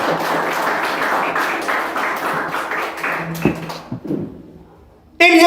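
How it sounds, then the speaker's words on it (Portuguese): A congregation at a church service breaks into dense, sustained applause that carries under some talk, then thins out and fades over the last couple of seconds, with a brief bright sound at the very end. "Dá mais uma salva de palmas para Jesus."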